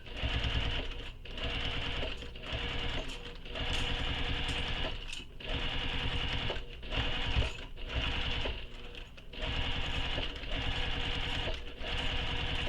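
Sewing machine stitching all the way around a crossbody bag, running in steady loud bursts separated by brief pauses, with no talking.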